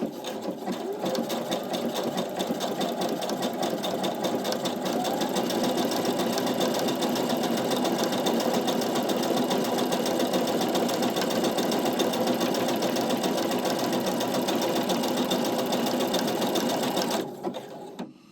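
A sewing machine runs steadily through an overcast stitch along a fabric edge, a fast, even mechanical whir with a rapid needle patter, close and loud, stopping abruptly near the end.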